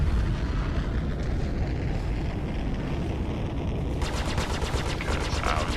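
Sustained rapid gunfire in the Star Citizen video game, dense continuous bursts layered with engine rumble, turning into a sharper rattling volley near the end.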